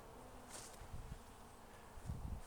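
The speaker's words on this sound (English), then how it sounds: "And a big swarm of bees." A big swarm of bees hums in an open canyon park among black mustard, a faint, continuous buzz with a few closer passes swelling briefly above the steady drone.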